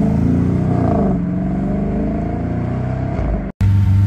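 A Bugatti EB110 engine runs outside the factory, a loud, steady mechanical drone with slight revving swells, cut by a sudden brief silence before the sound resumes.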